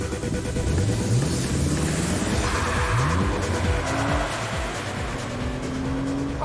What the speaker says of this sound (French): La première à s'élancer sur le tracé de Dreux, c'est la Renault Clio V6.